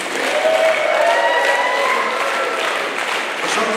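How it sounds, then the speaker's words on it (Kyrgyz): Audience applause from a gathered crowd at a congratulations event, a steady dense wash of clapping sustained throughout without a break, with no talk over it. "Ошон үчүн сол жактагы биз чүрөктөргө, оң жактагы жигиттерге кол чабып койгула"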